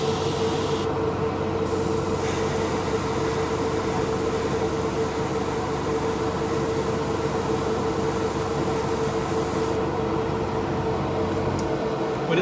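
Airbrush spraying pearl green paint onto a scale model, a continuous loud hiss of compressed air with a steady tonal hum underneath, running unbroken for the whole stretch.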